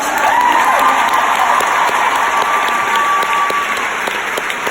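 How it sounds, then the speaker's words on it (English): Crowd at an Arbonne corporate event giving a round of applause, loud continuous clapping with a faint whistle or cheer rising over it, filling a large hall for the whole stretch. "can you give them a round of applause?"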